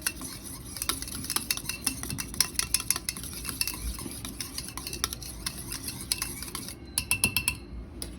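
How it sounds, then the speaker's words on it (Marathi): Raita whisked in a bowl with homemade red chilli powder added, the utensil rapidly tapping and scraping against the bowl in a steady rhythm, close and fairly quiet, with no talk. "छान फेटून घेऊया"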